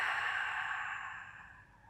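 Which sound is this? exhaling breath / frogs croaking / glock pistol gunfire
exhaling breath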